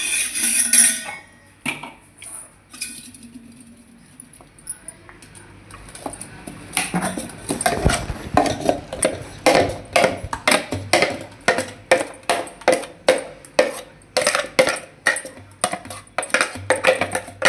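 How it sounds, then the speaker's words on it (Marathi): Ground mung bean paste is scraped into a bowl with a spoon, giving a quiet start and then a long run of quick, evenly spaced metallic clinks and scrapes close by, with no voices. "आता आपण एका भांड्यात काढून घेऊया"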